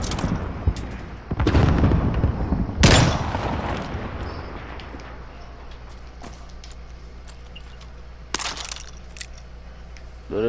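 A frag grenade blast and gunfire in the video game Call of Duty: Modern Warfare: two loud, booming bursts near the start, a rumbling tail, then a single sharp shot later over quieter ambient game noise.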